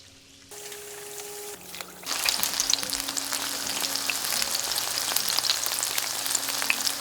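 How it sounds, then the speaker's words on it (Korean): Chicken drops into hot oil in a water-and-oil fryer and erupts into a loud, steady crackling sizzle of deep frying that continues without pause, close by. "실제로 한번 튀겨 보겠습니다"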